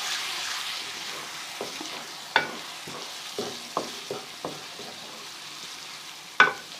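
Garlic-ginger paste frying with onions in a pan, a soft steady sizzle close by, broken by intermittent scraping stirs and a couple of sharper clicks of a spoon against the pan.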